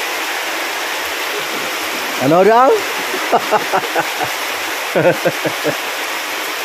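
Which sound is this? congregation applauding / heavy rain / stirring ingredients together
heavy rain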